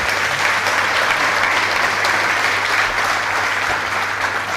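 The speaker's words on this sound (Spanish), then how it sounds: "Un fuerte aplauso, por favor," Sustained, loud audience applause fills a municipal hall during a public accountability presentation, steady clapping from a large crowd with no speech over it.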